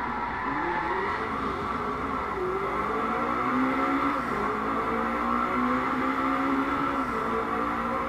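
A McLaren 650S engine in the racing game Driveclub, accelerating hard on a track in hardcore mode against opponents. The sustained loud roar climbs steadily through the gears with brief shift dips and no talk over it.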